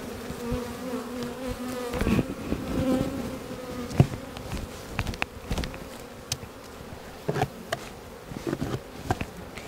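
Honey bees buzz close around an open hive during spring hive work, a dense continuous drone broken by scattered knocks and handling sounds.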